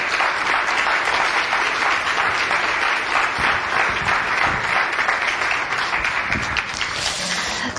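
Audience applause at a church thanksgiving celebration evening, a sustained crowd of clapping hands that stays loud and even throughout and eases slightly near the end.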